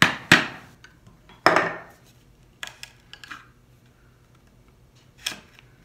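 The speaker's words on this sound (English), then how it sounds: "So I'll take the smaller chisel and pop it out." A hand chisel strikes and levers out dovetail waste from a wooden drawer side in a hand-tool woodworking shop, giving several sharp, separate knocks and taps spaced irregularly, close and crisp with quiet gaps between.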